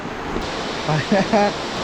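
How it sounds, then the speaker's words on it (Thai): The Huai Luang waterfall roars as a steady broadband rush, with a voice briefly speaking over it. "เสียงน้ำตกค่อนข้างที่จะแรงเลยทีเดียวครับ"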